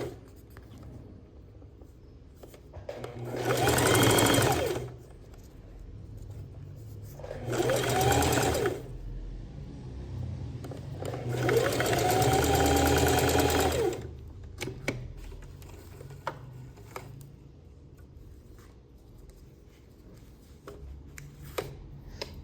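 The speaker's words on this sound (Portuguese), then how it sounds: "Então, aqui só uma costurinha de segurança. Então, nem vou dar retrocesso." A sewing machine stitches rubberized nylon for a children's multipurpose case in three close, loud bursts of rapid whirring, with quiet handling sounds between runs.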